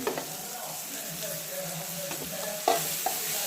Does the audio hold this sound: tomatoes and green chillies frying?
yes